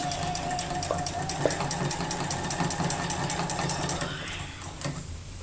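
A sewing machine runs steadily while free-motion quilting gentle curves along the stitch-in-the-ditch line, a soft continuous motor hum with rapid needle ticking, quiet and close, easing off near the end.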